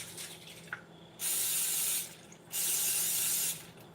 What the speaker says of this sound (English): I'm just gonna spray too.